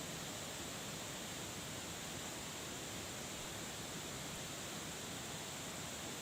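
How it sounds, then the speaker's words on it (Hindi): Floodwater of the swollen Indravati river near Jagdalpur pours down a hillside like a waterfall during heavy rain, a steady, dense broadband roar of rushing water with no break and no voices. "इतनी तेजी के साथ ये पानी बह रहा है"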